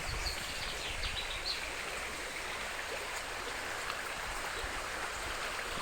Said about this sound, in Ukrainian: Вода бурчить, з поля стікає.